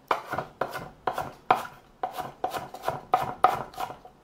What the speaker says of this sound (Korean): 큼직큼직하게 이렇게 큼직큼직하게 썰어주세요